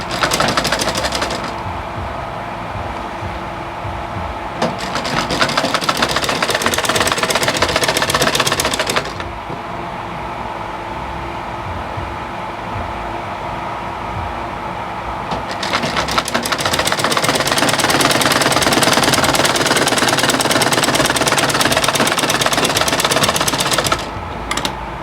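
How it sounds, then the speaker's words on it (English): A sewing machine stitches pleated peplum gown fabric in long continuous runs, loud and close, with brief pauses between bursts of fast mechanical whirring. "So I'm going to stitch this one as well"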